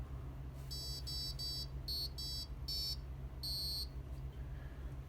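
After a reset, an Arduino piezo buzzer replays its short electronic melody: a run of sharp, high beeps in grouped bursts lasting about three seconds, loud and near, over a constant low hum and without speech.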